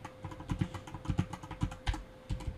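Brisk typing on a computer keyboard while entering network configuration commands, with close, crisp keystrokes and heavier thumps in uneven bursts, no voices.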